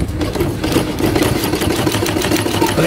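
An ordinary domestic sewing machine runs steadily after a timing fix, a close, rapid mechanical clatter with a regular stitching pulse and motor whir, no voices.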